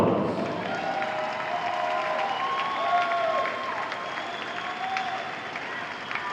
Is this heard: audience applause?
yes